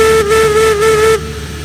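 A Climax geared steam locomotive whistle in the Railroads Online video game sounds one loud, sustained, steady tone with a slight pitch dip, cutting off abruptly and leaving a low rumbling engine background.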